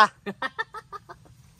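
Live chickens cluck in a steady series of about eight short, evenly spaced calls, close and fading gradually, over a low background hum.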